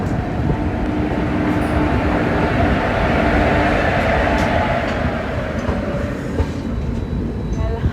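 Indian passenger train running steadily on rails between Kanpur Central and Lucknow, a continuous loud rumble of wheels and carriage noise with faint rhythmic clatter throughout, no talking.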